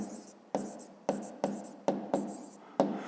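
A pen or pencil scratches out a number by hand on paper, with about seven short, close strokes in a quick irregular rhythm, faint and alone.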